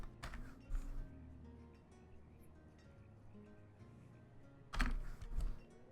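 Computer keyboard typing during a PC session of the city-building game Banished: faint, quick bursts of key clicks near the start and again around the five-second mark, with quiet room noise in between.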